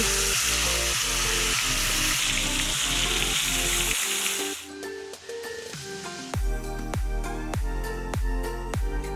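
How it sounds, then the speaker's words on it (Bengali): Marinated chicken leg pieces fry in hot oil and ghee, giving a bright, steady sizzle under loud rhythmic background music. "এবার ম্যারিনেট করা লেগ পিসগুলোকে আগে ভেজে নেব"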